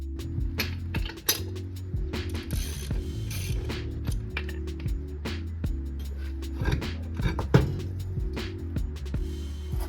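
Ratchet clicking rapidly while a wheel comes off an expedition Land Rover during brake repairs, dense metallic ticks and clinks in bursts close by over a low hum, with no talking.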